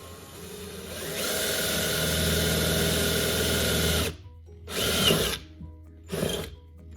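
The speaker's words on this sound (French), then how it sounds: "the long drill bit. La grande mèche." Power drill driving a long drill bit through a camper wall toward a generator exhaust, a loud sustained whine for about three seconds, then several shorter bursts separated by pauses.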